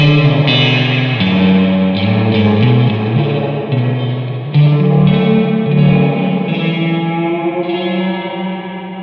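A guitar played through a distortion effects pedal churns out a thick, harsh, destructive wash of sustained chords, loud and continuous with shifting modulation and no voices.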